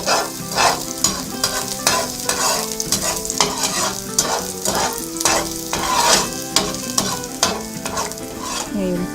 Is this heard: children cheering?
no